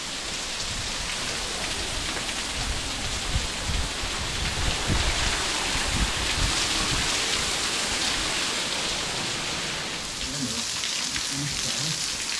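Twin Falls Circuit waterfall in Springbrook National Park pours down in a dense, constant hiss and roar, close by and unbroken, like heavy rain striking rock and pools.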